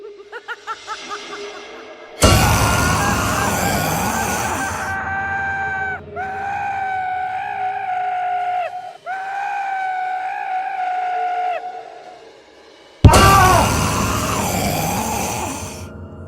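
A man in a Hindi horror story screams again and again in long, loud, strained bursts, with quieter wailing and a fainter cry between the shouts.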